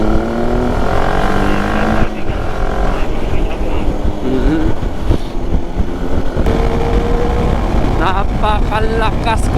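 Car engine in an off-road racing video game, a loud, continuous revving drone with shifting pitch, and a voice talking over it near the end.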